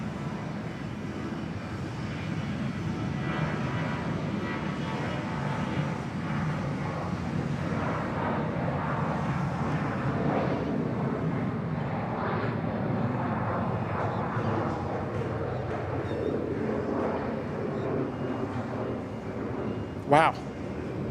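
Vietjet Air airliner at Bangkok Suvarnabhumi Airport, a steady broad jet-engine roar heard from a distance with wind buffeting the microphone, a sharp knock near the end, a voice talking over it.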